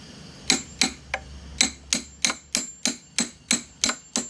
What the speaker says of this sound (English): I will go in with that chisel to prise it open